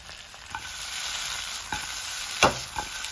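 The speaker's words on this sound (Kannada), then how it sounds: "ಚಿಕನನ್ನು ಚೆನ್ನಾಗಿ 10 ನಿಮಿಷ ರೋಸ್ಟ್ ಮಾಡಿಕೊಳ್ಳಿ." Chicken roasting in a pan for green pudina tandoori, with a steady sizzle under repeated scraping stirs of a spoon, one louder clack near the end, no voices.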